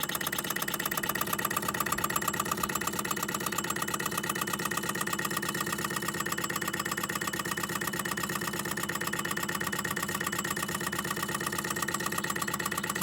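An Empire B-38 hot air engine, sold as a child's toy, runs steadily with an even, buzzing mechanical whir that holds constant throughout, with no voices.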